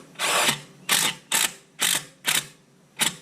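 A small cordless impact drill fires in six short, evenly spaced bursts of loud rattling hammering, each about half a second long, with brief silences between them.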